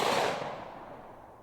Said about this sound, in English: Up first is the Glock 20 10mm, and I'm loaded up with a SIG 180 grain jacketed hollow point.